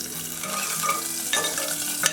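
A green chilli sizzles in hot ghee with asafoetida in a tempering for dal khichdi: a steady close frying crackle with a few sharper pops and a faint stir, no voices.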